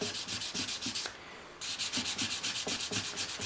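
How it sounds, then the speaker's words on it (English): Fine 800-grit sandpaper rubs back and forth over a rough guitar fretboard on a Ditson G10 acoustic, giving rapid, even scratchy strokes up close with a brief pause midway before the steady rhythm resumes. "I've got some 800 grit sandpaper and I'm just literally"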